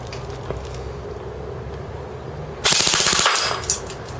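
An ICS Sig 552 airsoft gun on a 9.6 volt battery fires a short, rapid full-auto burst of about a second after quiet room tone, a loud, fast mechanical rattle that stops abruptly.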